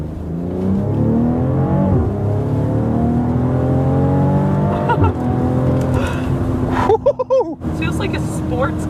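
A BMW X3 M40i accelerates hard on dry pavement, its engine climbing steadily in pitch through the gears with a loud, continuous roar, then a short burst of sharp popping near the end.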